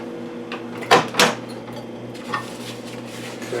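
A microwave oven hums steadily throughout while heating a burrito, with a couple of sharp clunks near the start, like a door or dish being handled nearby.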